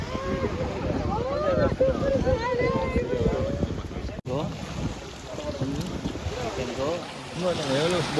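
Wind buffets a boat on the open sea off Agatti in Lakshadweep, with a steady roar of gusts and water and people talking over it close by.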